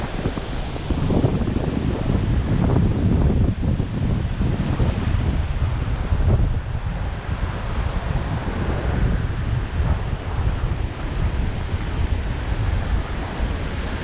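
Atlantic Ocean surf at Daytona Beach, Florida, with waves washing ashore under strong wind buffeting the microphone, a continuous loud roar with slow surges and no voices.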